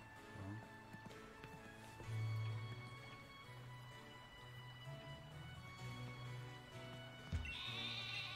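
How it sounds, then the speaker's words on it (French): Sheep bleat several times over a steady background in the video game Pokémon Sword, with a faint clopping and a brief sharp sound near the end. "Les moutons."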